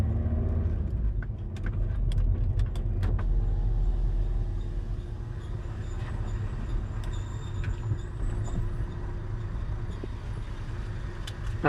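A steady low road rumble of a moving car with a suspected braking fault, where a brake disc makes wheel noise while driving, with scattered faint ticks and clicks over the drone and no talking.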